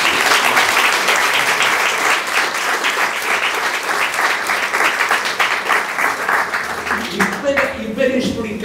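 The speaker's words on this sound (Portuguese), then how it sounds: "Uma grande salva de palmas para nós." Sustained applause from a large crowd, dense steady clapping that continues loudly before thinning out near the end.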